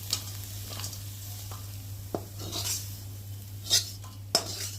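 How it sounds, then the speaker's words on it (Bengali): Fried potatoes are lifted out of a wok with a metal utensil, making a few sparse clinks and scrapes against the pan over a faint background sizzle, all fairly quiet. "আর এখন আমি আলুটাকে নামিয়ে নেব।"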